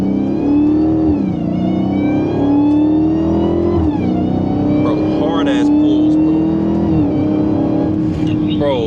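A Dodge Charger Hellcat pulling hard in first gear, its loud supercharger whine and engine note rising in pitch, easing briefly at each lift and building again, heard from inside the car with someone talking over it.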